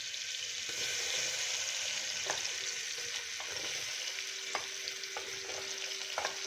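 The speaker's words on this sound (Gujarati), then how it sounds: "એમાં આપણે બધું શાક સુધારેલું હતું એ બધું એમાં ઉમેરી દેશું" Chopped vegetables and ginger-chili-garlic paste going into hot oil for pav bhaji, giving a steady close sizzle broken by scattered clicks of a spoon stirring against the pan, with no talking.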